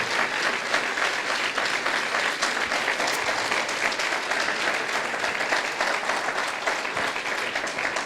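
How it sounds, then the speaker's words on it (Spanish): A church congregation bursts into sustained, steady applause at a Spanish-language sermon, dense clapping filling the room at an even level throughout with a faint murmur beneath. "Si le vas a aplaudir, aplaudile,"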